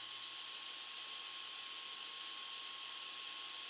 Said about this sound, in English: I'm just heat setting it to melt that embossing powder